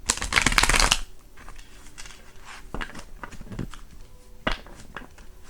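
A deck of playing cards is shuffled close up, a loud fluttering riffle for about a second followed by quieter taps, slides and scattered card handling.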